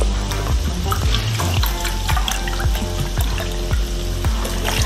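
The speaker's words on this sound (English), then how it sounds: "So I'm gonna put in like 3 cups of broth in here." Low-sodium vegan store-bought vegetable broth is poured into a pot with a steady, close splashing and gurgling stream that runs throughout.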